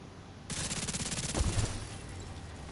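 Automated turrets in The Division 2 fire a rapid burst of repeated shots at mid distance, a dense rattling volley lasting about a second with a heavier thump near its end before fading to background ambience.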